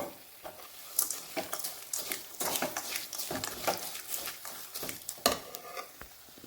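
Tamarind gojju frying in oil is stirred in a pan, with steady sizzling and a run of irregular scraping and stirring clicks close by, and no voices.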